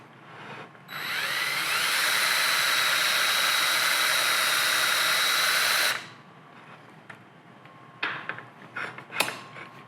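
A DeWalt right angle drill attachment boring into metal gives a loud, steady high-pitched whine for about five seconds, then stops, leaving faint rattles and short clanks.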